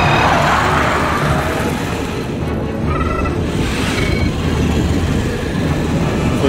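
Robots running in a sound-design mix with music: a dense, loud, continuous mechanical rumble and clatter, like heavy machinery rolling fast, filling the whole stretch without pause.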